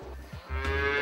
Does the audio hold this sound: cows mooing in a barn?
yes